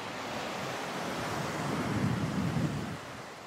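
Steady wind roars across the microphone on a windy beach at Puerto Yucalpetén while surf washes in, a broad continuous rush with a low swell of breaking waves partway through.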